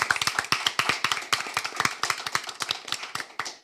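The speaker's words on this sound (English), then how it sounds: "Please give our timekeeper a round of applause" Audience at a 2025 debate round clapping for the timekeeper, sparse and distinct individual claps with a loose uneven rhythm, fairly close and crisp, no talking.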